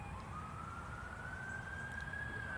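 An ambulance siren wails in a single slow rising tone, fairly faint and distant over low traffic rumble, with no talking.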